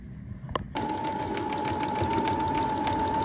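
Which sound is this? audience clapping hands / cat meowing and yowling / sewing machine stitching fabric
sewing machine stitching fabric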